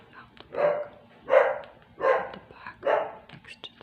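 A dog barks four times in a steady rhythm, fairly close and loud, with faint background noise between barks, one of about ten dogs and puppies next door near a construction site.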